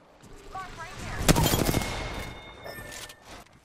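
Gunfire in a console shooter video game, a dense burst of rapid shots peaking mid-clip and trailing into sporadic fire, with game voice lines and faint effects around it.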